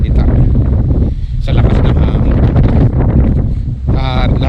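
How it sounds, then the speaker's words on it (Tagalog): Strong wind buffets the microphone in a continuous loud roar, with a voice briefly audible near the end. "Sarap nga sana mamingwit kaya lang sobrang lakas ng hangin"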